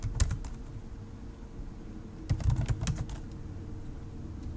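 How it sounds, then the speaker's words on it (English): A password is typed on a computer keyboard: a few quick key clicks, then a second short flurry of taps, close and moderately quiet over a faint room hum. "put in our password"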